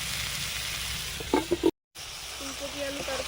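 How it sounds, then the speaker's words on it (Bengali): Potatoes for a desi rooster (country chicken) curry sizzle in hot oil at an outdoor winter family picnic, a continuous close frying hiss with a few soft clinks, broken by a brief silent gap. "মাংসের আলু ভাজা হচ্ছে।"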